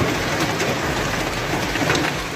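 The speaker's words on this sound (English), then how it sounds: "baseball-sized hail that is pelting down in the city of Mecca" Heavy rain pours down in Mecca, a steady dense hiss with scattered hard impacts that fit falling baseball-sized hail, constant and loud throughout with no voices.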